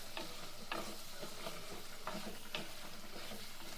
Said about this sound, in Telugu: ఒకసారి మంచిగా కలుపుకుందాము